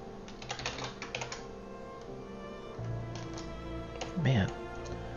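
Computer keyboard typing at a steady, fairly close pace, with quick clustered keystrokes throughout and a voice briefly heard near the end.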